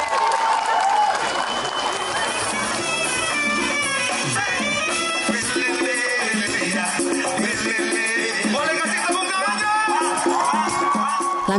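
Festival crowd in Maumere, Flores, applauding continuously with cheers, music and voices mixed in, loud and sustained throughout.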